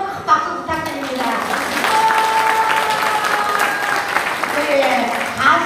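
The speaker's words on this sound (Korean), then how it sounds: "다시 한번 큰 박수 부탁드립니다." A crowd applauds with steady, sustained clapping that fills the room. A voice speaks briefly over it near the start.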